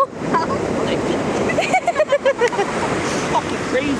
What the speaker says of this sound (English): Catch your half foot waves right there.